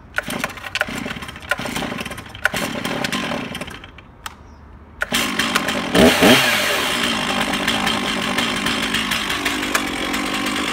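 A chainsaw is pull-started with the compression release decompressed and the choke set, sputtering through a few short attempts before catching and running steadily, loud and close, with no talking.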